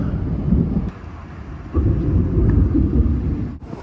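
Thunder rolling during a thunderstorm with light rain near a Finnish beach in Lempäälä, a sustained low rumble that swells and fades in waves, moderately loud and without talk.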